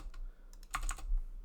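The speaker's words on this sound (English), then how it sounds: "You can hear my keyboard" Computer keyboard typing, a quick scatter of clicky keystrokes bunched together, close and clear against a steady low background hum.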